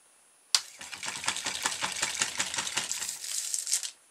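A small 12 volt electric motor spins a rubber-band pulley on a homemade pushrod crankshaft dynamo, starting abruptly with a steady, close, rattling whir full of rapid ticking clicks that runs for about three seconds and then cuts out.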